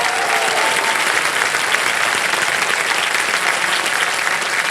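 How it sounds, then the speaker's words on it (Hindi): Steady, dense applause from a studio audience on the KBC Season 16 game show set, loud and continuous from start to finish with no voices over it. "जोरदार तालियां बज जाए सोनाली जी के लिए।"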